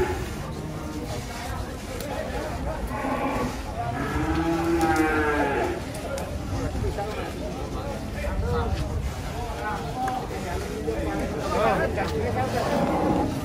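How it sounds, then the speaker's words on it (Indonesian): Sacrificial cattle and giant bantengs being unloaded from a truck give several loud, drawn-out moos close by, over busy outdoor noise and people talking. "Sapi kurbanan sudah mulai datang semua nih. Banteng-banteng raksasa."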